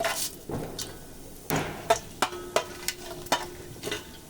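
Spices dropped into hot oil for chicken curry, a steady background sizzle broken by several sharp clinks and taps of a spoon against the pan, with no talking.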